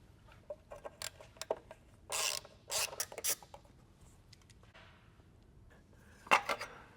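A ratchet works 10mm bolts loose from brackets under a BMW G20, giving short bursts of rapid clicking with a few scattered mechanical taps and a final sharp burst, all quiet and close with no talking.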